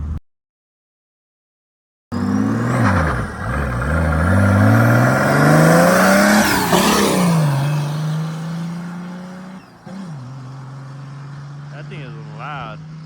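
An OM603 turbo diesel engine with a stock turbo and extra fuel revs loudly after a brief silence, the pitch sweeping up and down through a long rising roar before settling to a steady drone, then blipping again near the end.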